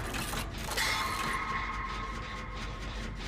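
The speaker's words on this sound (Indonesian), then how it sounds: "ini ada generator di sini. Kita bakal perbaiki dulu guys ya." Mechanical clanking and ratcheting from a generator being repaired in the video game Dead by Daylight, a steady run of metallic clicks and creaks with a brief brighter whine, heard alone without talk.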